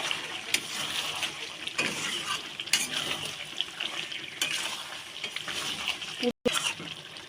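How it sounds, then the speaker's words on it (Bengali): Chicken sautéing with biryani masala in a pan, heard as a continuous close sizzle broken by scraping and clinking stirs, with a brief gap near the end. "একটু অল্প একটু বিরিয়ানির মশলা দিয়ে দেবো দিয়ে একটু কষে দেবো"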